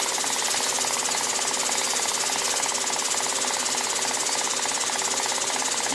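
A Diamond Pacific Titan Gem Maker spins a flex wheel fitted with 800-grit sandpaper, giving a loud, constant, rapid buzzing rattle that holds steady throughout.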